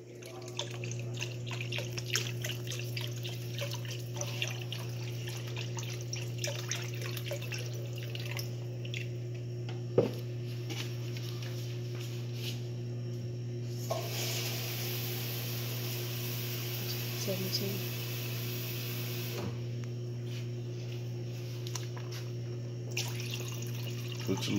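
Tap water runs steadily into a pot of crawfish and shrimp étouffée in a home kitchen, a continuous soft splashing flow beneath a low steady hum, with no talking.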